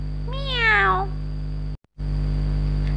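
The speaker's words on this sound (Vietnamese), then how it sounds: "Tiếng mèo." A single cat gives one clear, rising-then-falling meow, close and loud over a steady low hum, followed by a brief silence.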